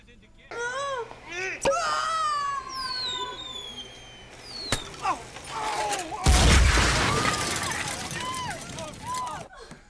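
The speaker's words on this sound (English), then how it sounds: "Why did that explode?" Explosion in a Pink Panther comedy film, a sudden broadband burst with a deep low rumble partway through, set among music, whistling tones and other film sounds.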